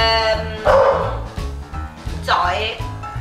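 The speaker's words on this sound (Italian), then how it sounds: "ho iniziato a registrare adesso e Zoe abbaia" A dog barks indoors in a few short, sharp yaps close by, mixed with music-like tones, and someone talks around the barks.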